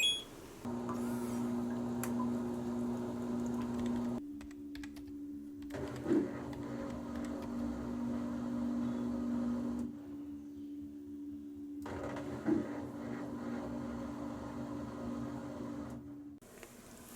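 A washing machine runs a spin cycle on a delicate setting with a knitted garment in a mesh bag, a steady humming drone that cuts out and resumes in long stretches, moderately loud with occasional clunks.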